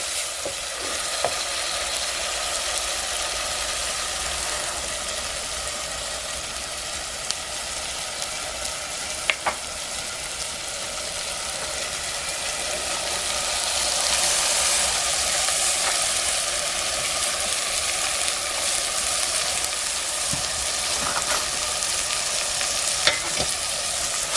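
Spicy corn kernels fry in a pan outdoors in a village setting, a steady close sizzle with occasional clicks and spoon taps that swells slightly midway, no voices.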